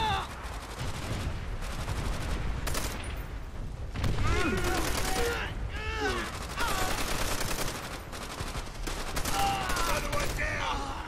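Rapid machine gun fire rattles in a steady stream of bursts during Call of Duty: World at War gameplay, loud and sustained, with scattered explosive booms and in-game voices mixed in.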